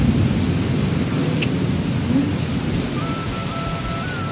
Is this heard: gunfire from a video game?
no